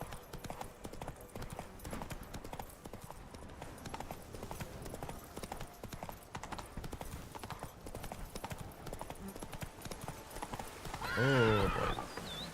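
Roach, the horse in the video game Witcher 3, gallops with steady, rapid clip-clop hoofbeats throughout, ending in a loud whinny near the close, with game sounds layered in.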